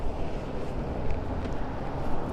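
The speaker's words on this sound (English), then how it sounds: "It's very windy, so I got the windsock on the mic." Low, blustery rumble of strong wind buffeting a windsock-covered microphone while walking in the East Valley of Los Angeles, steady and broadband with no voices.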